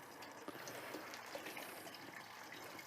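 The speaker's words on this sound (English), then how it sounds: "the water's washing down through the grains, and it's clean water. So I'm basically rinsing it, which is what sparging does" Clean water rinses down through a bag of grain during beer sparging for an all-grain stout, a steady, soft trickling gush that continues evenly without speech.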